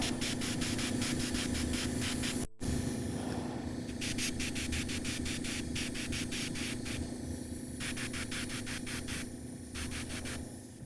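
An airbrush sprays paint in a steady close hiss that pulses in quick rhythmic bursts, with a brief cut-out partway through.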